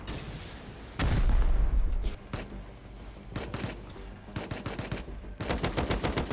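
Automated turret in the survival game Rust opening fire during a base raid: a loud sustained burst of rapid gunfire, then scattered single shots and short bursts, ending in a fast volley of sharp repeated cracks.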